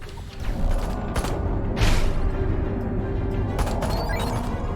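UFO weapons firing in the Destroy All Humans! 2 video game, a flying saucer letting off loud whooshing blasts and rumbling mechanical bursts over a steady hum, with a rising sweep in the middle and no voices.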